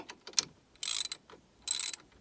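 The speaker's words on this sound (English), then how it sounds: "Put your ratchet on, tighten." A ratchet clicks in quick bursts while tightening a bolt on the brakes of an R56 Mini Cooper S, with two longer rapid ratcheting runs between scattered single clicks, close and fairly quiet.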